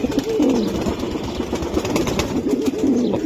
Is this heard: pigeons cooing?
yes